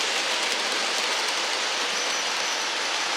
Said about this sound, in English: Very distractive having these trains running while I'm talking to you